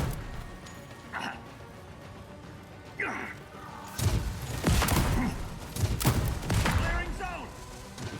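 Sci-fi weapons fire in The Expanse: Osiris Reborn video game: a few scattered shots at first, then a louder cluster of sharp volleys and crashing impacts in the second half.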